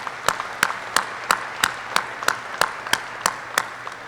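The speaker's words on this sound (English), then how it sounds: "So if I could get one last round of applause for the families, for you guys." At a US Air Force helicopter training class graduation, applause for the families takes on a rhythmic pattern of sharp, evenly spaced unison claps, about three per second, over softer scattered clapping.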